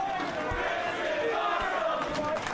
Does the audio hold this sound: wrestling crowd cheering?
yes